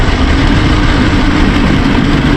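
The engine of a tuned Izh Jupiter 4 motorcycle runs in fourth gear on a winter ride, a loud, steady, close engine roar with a dense low rumble that carries on without a break.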